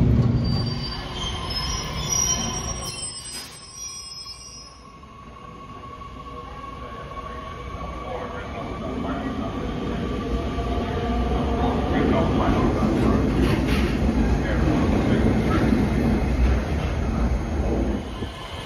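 Metra Electric commuter train running on track, with wheels squealing and a rising rumble of rail noise as it moves, loud and continuous, with someone talking at times.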